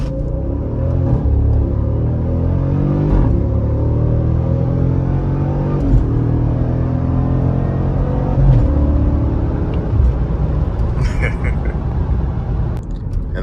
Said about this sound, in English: Okay, launch button press, apply brake, apply full throttle.